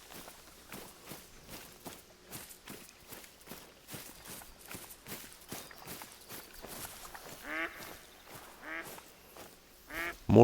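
Ducks quack in bursts in the Hunter Call of the Wild hunting game, rising near the end over a steady run of footstep crunches as the player walks.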